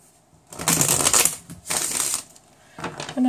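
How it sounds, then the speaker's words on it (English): Tarot cards are shuffled in three separate bursts of crisp, riffling paper flutter, close and moderately loud, with short quiet gaps between them and no talking. "I'm just going to give the cards one last shuffle."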